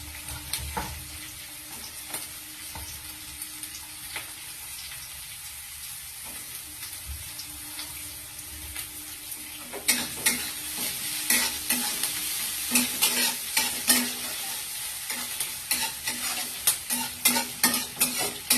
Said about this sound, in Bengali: পেঁয়াজ ক্যাপসিকামটা খুব ভালোভাবে ভাজা ভাজা হতে দিতে হবে